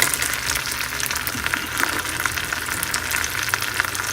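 Black pudding, a blood sausage with its casing removed, sizzles steadily in a hot pan, a continuous close crackle and spatter with small pops and the occasional light scrape of turning.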